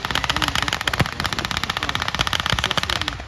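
A .50 caliber machine gun mounted on a WW2 Jeep fires a rapid, sustained burst of heavy, sharp, evenly spaced shots, loud and close, with no voices.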